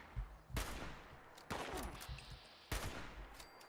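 Gunfire in the video game Fallout 76, including a single action revolver: three loud, separate shots spaced about a second apart, each with a ringing tail.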